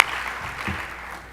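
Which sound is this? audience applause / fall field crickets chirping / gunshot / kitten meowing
audience applause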